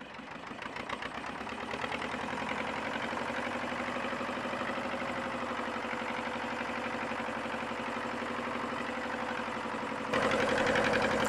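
A fishing boat's engine runs steadily throughout, a continuous mid-pitched drone with a faint rhythmic throb, close and fairly loud, growing slightly louder near the end as the boat moves to a new spot after hauling the net.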